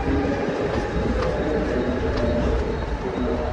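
A train at a Mumbai railway station roars steadily and loudly throughout, a dense continuous rumble of rolling carriages and wheels with faint voices mixed into the din.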